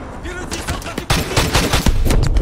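Rapid shotgun blasts from Call of Duty: Modern Warfare 2 Remastered gameplay, several loud booming shots in quick succession amid dense in-game battle noise.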